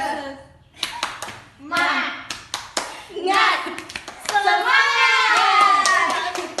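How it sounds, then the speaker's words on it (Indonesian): Schoolchildren in a primary classroom clap out the tepuk semangat routine in rhythmic bursts of sharp hand claps, with chanting and children's voices between and over the claps, loud and close. "1, 2, 3, tepuk semangat."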